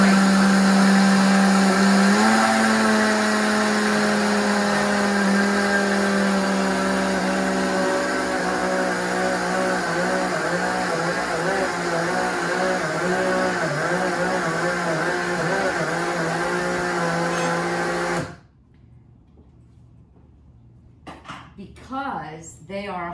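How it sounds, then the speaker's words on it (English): Vitamix blender grinding flax and chia seeds, a loud continuous whine and roar that shifts in pitch as the seeds break down, then cuts off abruptly, followed by a few light clinks. "this is a Vitamix, turn it on, and I grind it"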